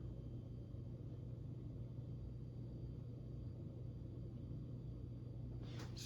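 A Westinghouse 3-speed Power-Aire electric fan, made by Tatung and freshly cleaned, runs with a steady, unbroken whooshing drone over a low motor hum, holding level throughout.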